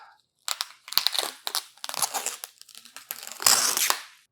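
Strong double-sided tape being torn away from doll box packaging, close and loud, heard as a run of crackling, ripping peels in uneven bursts, ending in one longer harsh tear.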